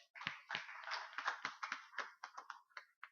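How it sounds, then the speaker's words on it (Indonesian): Audience applause at an Indonesian motivational launch event, appearing as a few scattered, uneven claps rather than a full ovation, moderately faint and heard alone without talk. "Tepuk dulu untuk Bu Kastini"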